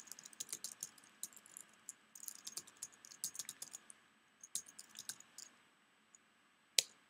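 Email addresses being keyed in on a computer keyboard, irregular bursts of quick, light key clicks with short pauses between them, close and fairly quiet, ending with one sharper tap.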